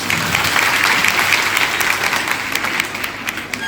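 An audience of girls and women claps continuously at a special program, dense steady applause filling the room, slowly tapering slightly toward the end.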